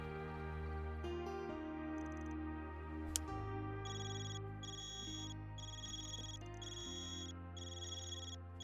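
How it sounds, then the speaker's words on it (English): A ringing phone in the video game Trails beyond the Horizon: a repeating electronic ring pattern in regular bursts with gaps between them, layered over soft game music, with no voices. "Man, your side was ringing. Why does it sound so weird though?"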